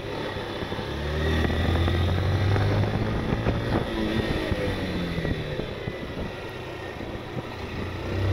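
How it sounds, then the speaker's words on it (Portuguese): A 160cc motorcycle is ridden hard on an aggressive lap, its engine revving loudly and steadily throughout, with rising and falling pitch as it accelerates and shifts. There are no voices. "E agora eu vou para uma volta mais agressiva para demonstrar um pouco do que a gente pode exigir da moto"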